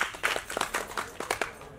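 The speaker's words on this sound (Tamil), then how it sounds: "அதனால அவருக்கு ஒரு கைத்தட்டல் கொடுத்துருவோம்" A small audience at a film audio and trailer launch gives a short, faint round of applause for the co-producer, with scattered, uneven handclaps that fade out within two seconds.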